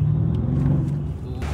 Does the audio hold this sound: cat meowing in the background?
no